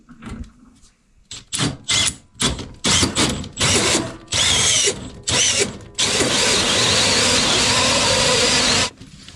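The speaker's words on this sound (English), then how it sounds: "I can drill the hole." A power drill bores a 3-inch hole for a diesel heater install, running in short bursts that stop and start before one long continuous run, loud and close.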